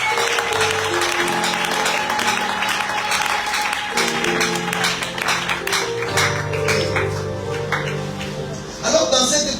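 A church congregation applauding and cheering together in a sustained burst of clapping, with a keyboard chord and voices mixed in behind it.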